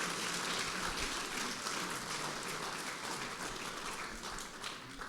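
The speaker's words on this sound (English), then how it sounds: "please give a round of applause to our two amazing panelists" Applause from an audience for two panelists at a talk on philanthropy and food, a steady even wash of many clapping hands at moderate volume that thins slightly toward the end.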